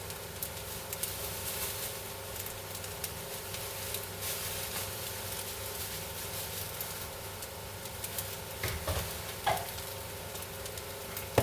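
Oxtail fried rice sizzles in sesame oil in a pan, a steady bed of frying hiss with a few small pops and clinks near the end, close and even, with no voice over it.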